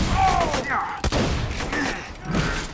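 Shotgun gunfire in Borderlands 2: several heavy blasts go off in quick bursts, including a sharp punchy shot about a second in, mixed with game effects and a voice speaking under the action.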